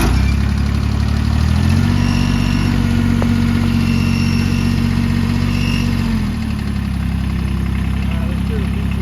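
A 2022 Kubota BX2380 4x4 compact tractor engine runs at a steady loud idle, with a mid-toned drone that rises slightly at start-up and eases off near the end.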